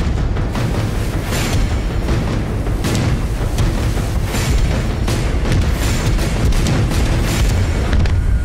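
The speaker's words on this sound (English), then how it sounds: "the captain had one extreme measure left: to surface and engage in an artillery battle" Submarine K-21 surfaced in World of Warships 2, engaging German chasers in a naval artillery battle: a dense run of heavy booming gun blasts, one after another across the whole stretch, loud and continuous with no talk.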